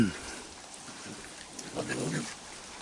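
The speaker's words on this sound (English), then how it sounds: "Yeah, a lot of heavy rain." Heavy rain patters in a continuous hiss outside a house door at night, with a low rumble and a brief clatter partway through, and no voices.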